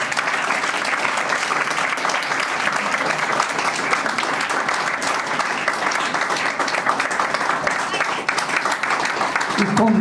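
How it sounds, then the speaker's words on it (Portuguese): An audience at a piano and violin recital applauds in a steady, dense burst of clapping, filling the hall from start to finish. "Para todos vocês, um grande aplauso."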